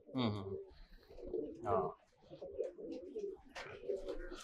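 Soft repeated coos from a Bara Pari Kaldumba pigeon, a bird brought in from outside, come in several short phrases mixed with nearby speech.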